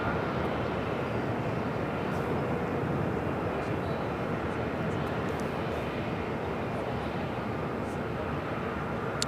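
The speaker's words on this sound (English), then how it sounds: "Our next takeoff is United Airlines Flight 1229, heading to La Hui in a 737 MAX 8." A United Airlines Boeing 737 MAX 8 on its takeoff roll at LAX, a broad, steady jet-engine roar that holds loud and even throughout, with no talking.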